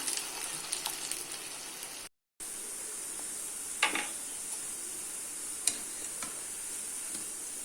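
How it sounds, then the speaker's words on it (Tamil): Ulundu vadai, a lentil fritter, fries in oil with a quiet, steady hiss, a brief silent gap partway through and a few faint clicks and light utensil touches, no voices. "லைட்டாக இப்படி ஒரு குழி போட்டு நம்ம இதை எண்ணெயில் போட்டு எடுத்துடலாம்"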